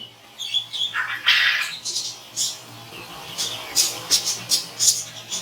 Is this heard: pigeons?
yes